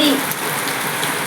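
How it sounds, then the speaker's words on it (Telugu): Steady rain falls outdoors, a dense even patter and hiss on surfaces that holds at a constant, fairly loud level throughout. "చూడండి వర్షం కూడా పడుతుంది."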